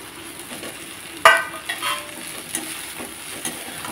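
Cabbage and dal being stirred in a frying pan with turmeric, giving a soft sizzle with a sharp spoon scrape near the start and a few lighter stirring knocks afterward.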